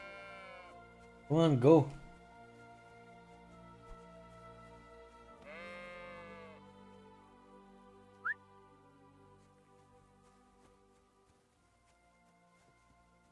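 Sheep bleat in short bursts in the video game Kingdom Come: Deliverance 2, one loud wavering call then another, with a person briefly speaking and a faint whistle-like chirp later in a quiet setting.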